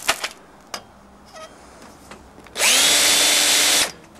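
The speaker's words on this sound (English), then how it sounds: "and then just drill that through" A power drill bores through a kitchen counter during fitting, a loud steady whining burst of about a second and a half after some quieter handling knocks and clicks.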